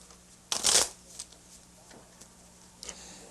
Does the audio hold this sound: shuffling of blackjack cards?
yes